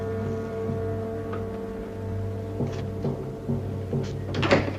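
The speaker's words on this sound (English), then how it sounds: "Close the door, please." A door closes in a sparse room in a WWII-era drama, giving a few soft knocks and a latch-like click over a steady low hum, with a sharper thud near the end.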